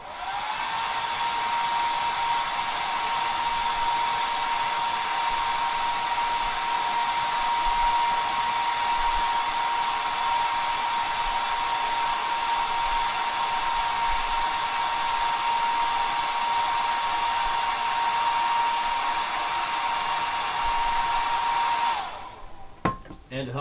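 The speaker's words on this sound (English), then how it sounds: "I'm going to turn the blow dryer up" A blow dryer runs on high for a long stretch, a loud, steady whooshing roar with a whining tone, then cuts off abruptly near the end.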